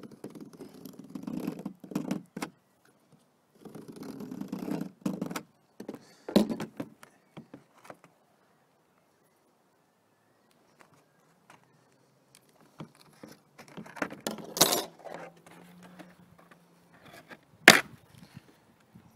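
A blade scores a frame panel in several rough, rasping strokes, close and fairly quiet, in two main bursts followed by scattered sharp clicks and knocks with quiet gaps between.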